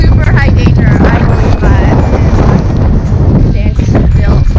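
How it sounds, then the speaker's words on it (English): Strong wind and rain batter the microphone at Reynisfjara black sand beach in Iceland, a loud, continuous low roar and buffeting that nearly swamps a person talking underneath. "It is raining and super windy right now."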